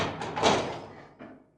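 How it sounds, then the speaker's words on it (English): A door bursts open in a narrated Sherlock Holmes audiobook story, a brief creaking swish and knock of wood followed by a softer thump as it settles, heard alone without talk. "As I stood there, imagine my surprise, Mr. Holmes, when the door suddenly opened"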